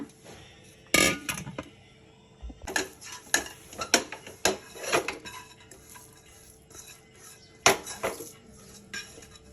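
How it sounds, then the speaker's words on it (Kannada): A metal spoon scrapes and clanks against a pan while cooked rice is mixed into a tomato chutney tempering, with irregular sharp knocks and clinks, close and fairly loud, spaced through quieter stirring. "ಅನ್ನ ಹಾಕಿದೆ ಇದನ್ನು ಚೆನ್ನಾಗಿ ಕಲಿಸ್ಕೊಂಬಿಡೋಣ"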